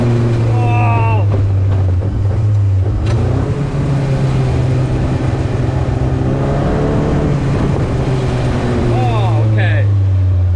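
Austin 7 Cambridge Special engine revving loudly through a side exit exhaust, a steady strong drone that rises and falls in pitch, with people talking and exclaiming over it.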